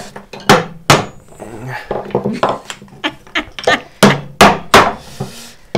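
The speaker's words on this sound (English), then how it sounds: "I am still using this hammer." A hammer strikes while a wooden letter opener is being made, a string of sharp close knocks and taps in an uneven rhythm, some hard and some lighter, with people talking between the blows.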